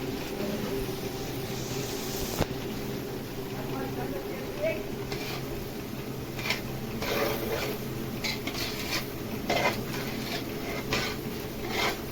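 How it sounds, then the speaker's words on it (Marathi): Semolina (rava) being stirred in hot ghee in a pan while cooking a large batch of prasad, with soft scraping and occasional clinks of the spoon against metal under steady background hiss. "रवा टाकल्यावर असं हळूहळू पूर्ण हलवून घ्यायचं"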